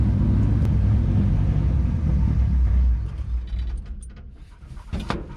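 A 1966 Chevrolet K20 four-wheel-drive truck engine idles with a heavy low rumble, then dies out after the ignition timing is retarded, leaving a few mechanical clicks and rattles nearby.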